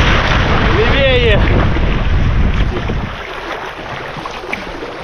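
A boat moves along a river shore in wind and waves, a loud, blustery rush of wind and water splashing, with a short whistle or cry early on and the wash settling down later.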